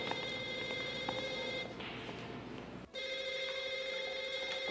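A telephone rings with a steady electronic bell tone that stops briefly and then resumes, clear and close, with no speech.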